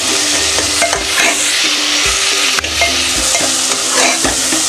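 A spoonful of Kashmiri chili is stirred into mushroom masala in a hot pan, giving a steady close sizzle broken by repeated scraping strokes of the spoon, with no voices.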